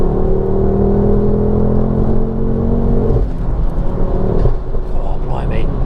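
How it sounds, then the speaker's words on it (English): Mountune MR375 Mk2 Ford Focus RS engine on the road, a loud sustained engine drone that drops off as the driver lifts off the throttle, with burbly overrun rumble after; people talk over it. "God, the sound off the throttle is so nice."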